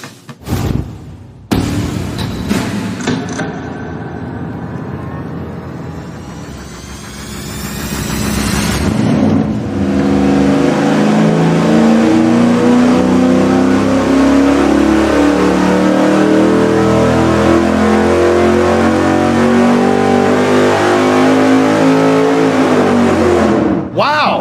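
A V8 race engine on a dyno during a power run, fitted with a 165 head, cranking and catching, then sweeping from a low idle into a long, loud, rising wide-open-throttle roar that cuts off abruptly at the end.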